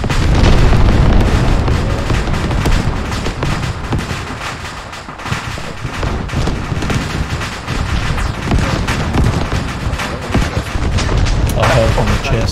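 Explosive detonations from breaching charges in ARMA 3, heavy booming blasts rolling continuously at close range, loud and dense, with voices talking over the din.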